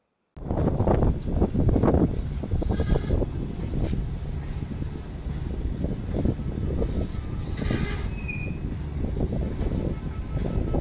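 A train rumbles past at close range over a woman lying flat on the railway tracks, a continuous heavy clatter of wagons with wind buffeting the microphone.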